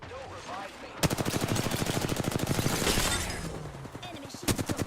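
Rapid automatic gunfire in a video game shooter, a dense burst of sharp shots lasting a few seconds, then a couple of isolated louder shots near the end.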